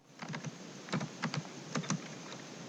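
A computer keyboard is typed on in short bursts of light, quick clicking keystrokes, fairly close and quiet, ending with a sharper tap, with no talking.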